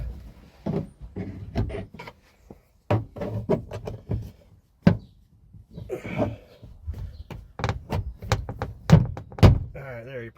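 Plastic clips pop and thunk as a trim tool pries off the rear door panel of a 2009 Hyundai Accent, with a series of sharp knocks and cracks scattered through the clip.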